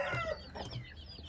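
Chickens cluck and an Indian game rooster calls in a backyard coop, with several short, close clucks and calls overlapping across the moment.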